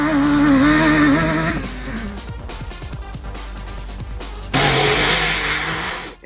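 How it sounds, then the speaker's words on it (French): Barracuda race car at a French autocross event driven flat out at the limit, engine screaming and revving loud and close, pitch dropping and rising again as it shifts, with tire noise and no talk. "Au volant de son petit car Barracuda, il donne tout, flirte allègrement avec la limite"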